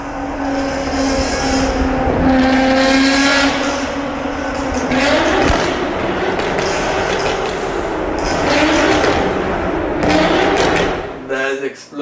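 A Nissan GT-R engine revs up and down in repeated surges, punctuated by sharp exhaust pops and thuds, loud and close, ending in a short sputter.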